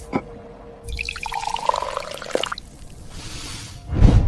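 Boiling water is poured from a shopkeeper's pot into a bowl to brew tea, giving a short liquid pour with splashing and dripping, then a brief louder splash at the end, with no voices.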